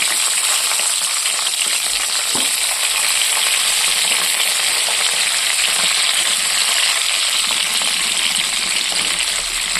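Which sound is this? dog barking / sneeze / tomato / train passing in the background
tomato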